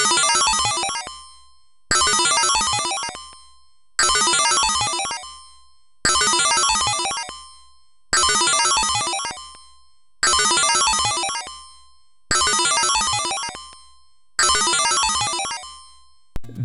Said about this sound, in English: you're left with equally abysmal PC speaker noise sound effects or ad-lib equivalents to violently violate your eardrums